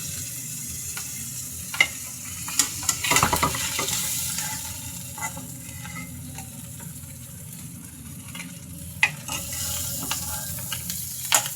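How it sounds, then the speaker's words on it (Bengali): Prawns frying in oil in a pan for prawn malai curry, a continuous close sizzle with a burst of spattering and clattering as pieces are lifted, then scattered stirring clicks, no talk. "এবার আমি চিংড়ি মাছগুলোকে ভেজে তুলে নিচ্ছি।"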